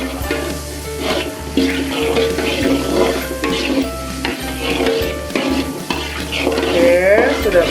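Margarine melting in a hot pan for a chili and salt chicken dish, a steady close sizzle with scraping stir strokes and occasional clinks of a utensil against the pan.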